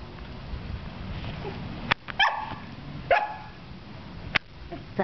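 A chocolate cocker spaniel barks at a large cockroach indoors, giving three or four sharp, close barks spaced irregularly over quiet room noise, with no talking.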